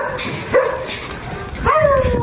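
Several dogs barking along a roadside, some of them tied up, a few sharp close barks and yips spaced out over a couple of seconds with faint background noise.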